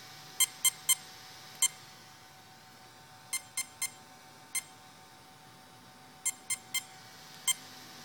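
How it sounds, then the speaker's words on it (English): A Mamba electronic speed controller plays programming beeps while being set up on full throttle, sharp high tones in clusters of three, then singles and more triplets, clean and close over a faint steady hum. "So you hold full throttle till you get the green beeps"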